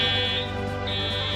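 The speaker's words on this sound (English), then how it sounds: "Oh no, the fire alarm is back." An indoor fire alarm sounds a steady, loud electronic tone with a high shrill whistle running throughout, over a low continuous hum.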